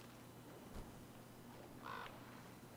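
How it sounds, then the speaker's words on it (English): A crow gives a single short caw in the video game Metro Exodus, faint and somewhat distant over a low steady ambient hum, with no talking. "Oh, that's cool, little crow landed."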